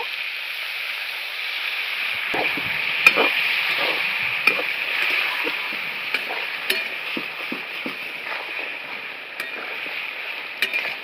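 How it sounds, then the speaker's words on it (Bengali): Vegetables sizzle steadily in a hot pan for a rohu fish curry with drumstick stems and ridge gourd after a splash of water, with salt and cumin powder; a continuous hiss runs throughout, broken by scattered soft stirring clicks, close and moderately loud. "একটু জল দিয়ে দেব"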